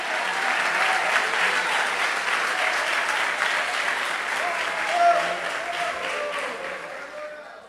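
A church congregation at a revival service breaks into sustained loud applause, dense clapping close and full that holds steady for several seconds before tapering off near the end.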